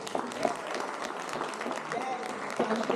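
Audience applause fills the hall at Howard University's Occupational Therapy Department 50th anniversary gala, a steady moderate patter mixed with voices talking throughout.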